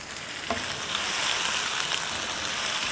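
Chicken pieces fry loudly on a hot tawa, a dense, constant close sizzle and crackle with no voices, as onions caramelise alongside.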